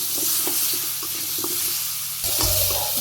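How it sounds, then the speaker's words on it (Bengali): Potatoes sautéing in a pan with salt, turmeric and dry chili powder, a soft continuous sizzle broken by a series of light, rhythmic spatula scrapes, growing louder near the end. "আলুগুলো কষে নিচ্ছি"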